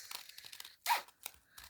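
Scissors cut through paper pages at a crafting table, giving a few crisp, close snips with one louder, longer slice near the middle.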